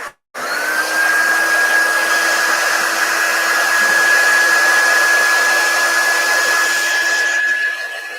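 A hair dryer blows steadily and loudly at close range for about seven seconds over chalk paste on a Dollar Tree craft plaque, its motor holding a high, even whine that cuts off at the end.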